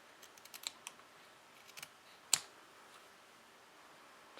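Scissors snip once through a quilting fabric strip, a single crisp cut that stands out after a few faint taps and rustles in a quiet room.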